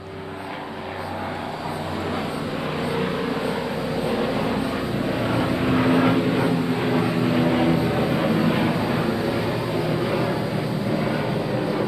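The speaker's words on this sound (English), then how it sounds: "helicopter" A helicopter flies over a barn, a continuous rumbling drone that swells gradually and stays loud, with a low engine hum beneath a broad whooshing wash and no clear speech.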